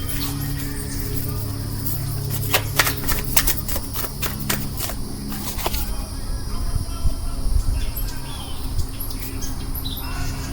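Tarot cards are shuffled in a steady run of crisp clicks and riffling flutters, with a few sharper snaps partway through, heard close up over a constant low background hum.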